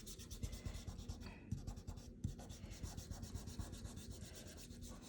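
Pencil graphite on paper rubbed back and forth to blend shading in a portrait drawing, a steady close scratchy swishing with quick repeated strokes throughout, alone without talk.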